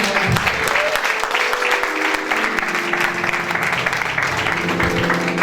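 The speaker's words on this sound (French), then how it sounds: "Acclamons, encouragez les jeunes" An audience at a religious gathering claps loudly and steadily to cheer young people, while a voice carries on over the applause.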